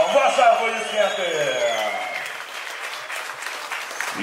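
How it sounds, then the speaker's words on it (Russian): Arena audience at a fight event applauds the winner, a dense, continuous roar of clapping mixed with crowd noise, while an announcer's voice carries over the start before the applause continues on its own. "Ваши аплодисменты!"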